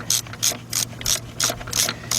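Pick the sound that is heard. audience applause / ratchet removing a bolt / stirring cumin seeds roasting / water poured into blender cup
ratchet removing a bolt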